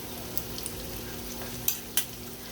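Food fries in a pan until crispy, a quiet steady sizzle with a few soft stirring scrapes and two sharper clicks near the end.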